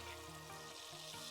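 Chicken breast laid presentation side down into a hot pan, frying with a steady, close sizzle and crackle throughout, no voices.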